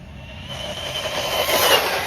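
A DeeRC 8618 1/16-scale RC truck, capable of 54 to 57 mph, accelerates at full throttle, its high-pitched motor whine climbing steadily and growing louder over about two seconds with no talk.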